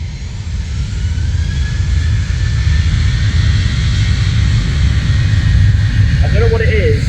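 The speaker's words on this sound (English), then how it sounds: "an airplane at takeoff thrust is unbelievable" An airliner climbs out at takeoff thrust from Manchester Airport, a loud, sustained jet roar with a rising whine, heard from a viewing park with a voice speaking over it.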